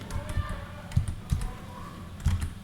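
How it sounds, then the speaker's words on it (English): Typing on a computer keyboard while coding Python on a Jetson Nano, a few separate key presses and soft clicks at close range over low background noise. "you can type anything you want"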